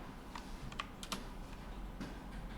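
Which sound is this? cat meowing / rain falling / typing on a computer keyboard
typing on a computer keyboard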